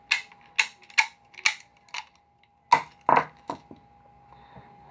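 Sharp metallic clacks and clicks of an empty magazine being pushed into a Rock Island Armory GI 1911 pistol, about ten close, crisp handling knocks in two short bursts, with no talk.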